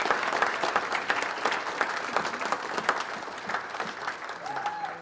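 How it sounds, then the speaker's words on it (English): A crowd at a hockey program's 50th anniversary event applauds the organizing committee, with brisk, continuous clapping filling the room at a fairly even level for about five seconds. "could we all just give a little round of applause for all the work that they have done to make this happen"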